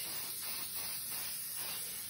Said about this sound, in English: you want to spray your hairspray over the entire frame and give it a really good thick coat